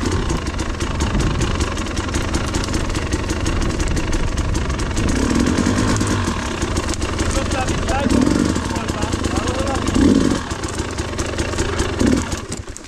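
A Beta 480 enduro motorcycle engine idles with a steady, throaty putter close by on a trail while people talk over it, the revs rising briefly a few times.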